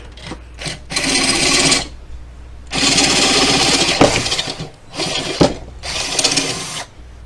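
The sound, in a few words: power drill enlarging a hole to 1/2 inch for a grommet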